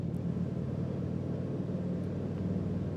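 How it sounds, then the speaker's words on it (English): A low, steady engine rumble from a Harley motorcycle cruising through woods, constant and unbroken throughout. "You can hear the Harley sound in the background there."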